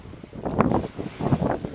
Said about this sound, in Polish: ale wieje wiatr i wzburzone morze